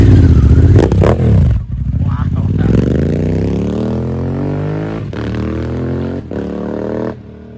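A Honda Africa Twin motorcycle with a BT Moto stage 1 tune roars with a deep engine tone, revving hard and then fading into the distance, its drone holding loud throughout.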